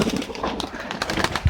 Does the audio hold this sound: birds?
yes